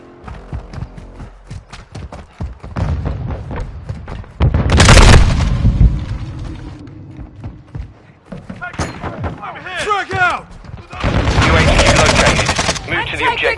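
Call of Duty video game gunfire aimed at a UAV, sharp bursts and a loud blast cluster, with spoken radio-style game voices in between.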